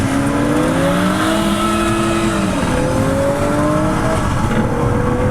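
Performance hatchbacks, a Mercedes A45, Audi RS3 and BMW M135i, pull hard from a rolling start in first gear, engines roaring loud and close with pitch climbing and a gear-change dip midway.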